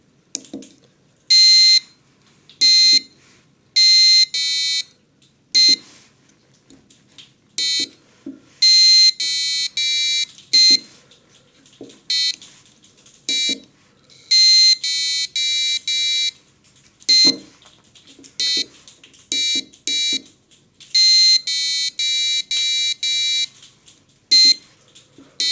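A Velleman Brain Game electronic kit gives out clear, shrill beeps in irregular bursts of varying length, separated by quiet gaps and faint button clicks, over about twenty-five seconds.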